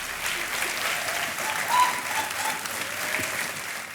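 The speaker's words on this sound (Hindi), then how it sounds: "तालियां बजती रहे इनके लिए।" Studio audience applause on a Kaun Banega Crorepati game show set, a steady, dense clapping that fills the whole stretch with a brief swell midway.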